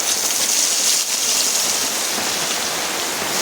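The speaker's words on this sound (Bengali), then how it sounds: "বাইরে প্রচন্ড বৃষ্টি শুরু হয়ে গেছে" Heavy rain pours down outside a rural Bengali kitchen, a steady, dense hiss that runs unbroken from start to finish with no voices over it.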